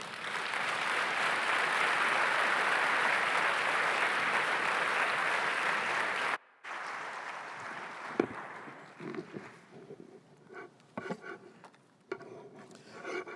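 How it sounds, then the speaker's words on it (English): An audience at a Smart Africa leaders' closing session applauds as the President of Niger takes the stage. Loud, dense clapping runs for about six seconds, then cuts off abruptly into quieter room noise with a few scattered knocks. "I'd like us to give a proper round of applause as he takes the stage."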